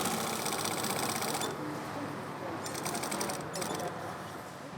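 A tailor's sewing machine stitching a raised 1 cm seam into fabric in a diamond pattern for a box-spring bed, a steady close mechanical whirring hum that pauses briefly and resumes in short bursts.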